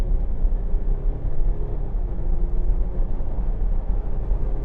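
A 2013 Range Rover Sport Black Edition accelerates smoothly onto a motorway, its low, muffled engine and road rumble steady and fairly quiet from inside the cabin.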